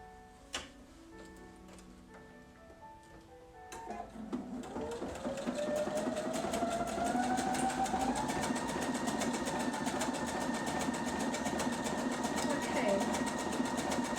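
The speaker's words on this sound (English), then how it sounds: "I'm going to stitch the bridging stitch down the center of that." A sewing machine stitches a bridging stitch along felt, starting after a few faint clicks and then running as a steady, close mechanical whirr with a rising motor tone.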